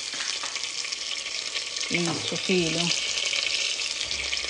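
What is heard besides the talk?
chicken frying in a pan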